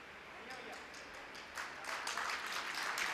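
Audience applause at a Hindi poetry gathering builds from scattered clapping into a fuller, steady round over a few seconds, moderately loud in a large room.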